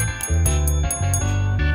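A bright bell notification chime for a subscribe button rings in several quick, clear metallic dings, loud and alone with no talking.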